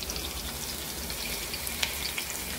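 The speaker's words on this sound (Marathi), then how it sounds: "आता लसूण आणि हिरवी मिरची परतून झालेली आहे" Garlic and green chillies frying in oil in a pan for bhendi bhaji, a soft continuous sizzle with a couple of faint crackles, quiet and steady with no talking.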